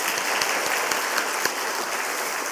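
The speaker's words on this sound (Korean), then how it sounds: "우리 감사의 박수 하겠습니다" A church congregation at a Korean Wednesday worship service gives a round of thankful applause, steady, even clapping filling the room throughout with no speech.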